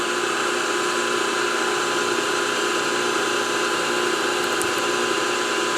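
A drill press running with a center drill lowered onto a metal workpiece, giving a steady mechanical hum and whir at constant loudness, with no distinct cutting bite standing out.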